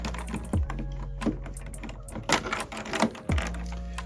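Plastic keys are pressed into place on a Sam4s cash register keyboard kit, giving a few sharp, close clicks and snaps at irregular moments over low background noise.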